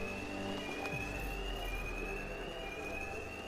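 A bank alarm in the Batman: Arkham Knight video game rings as a steady, unbroken electronic tone over a dense low rumble, continuous throughout.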